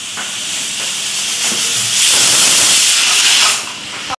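A home pressure cooker in a kitchen releases steam in a loud continuous hiss that swells midway and then cuts off, close by with no talk.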